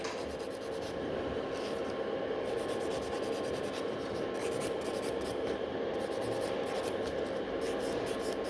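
A file works back and forth along the free edge of an almond-shaped gel nail during a rebalance, giving a steady, close, continuous soft scratching without pauses.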